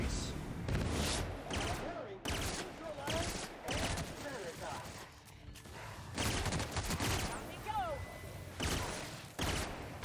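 Gunfire aimed at a Raptidon Colossus in a video game, loud bursts of rapid shots in repeated volleys across the clip, mixed with a voice speaking and other game noises.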